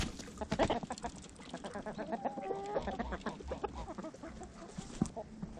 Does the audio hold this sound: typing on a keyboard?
no